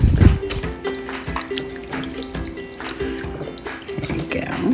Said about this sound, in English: I'm going to do about a cup of beef broth.